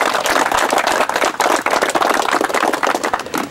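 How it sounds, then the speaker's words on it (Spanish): A gathering at a road construction restart ceremony in Vilcabamba bursts into applause, many close, sharp hand claps in a busy irregular patter, fairly loud and unbroken. "Y les doy un aplauso en ese momento"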